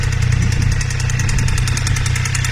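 A Triumph Street RS motorcycle engine with a broken connecting rod idles close by with a steady, rapid metallic knocking beating through the running motor, loud and continuous.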